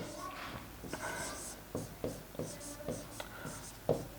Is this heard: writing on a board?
yes